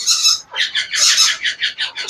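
An African grey parrot, a young bird, squawks in a rapid series of loud, harsh, close calls with short gaps, with no talk over them.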